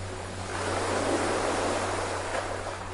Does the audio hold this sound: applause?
no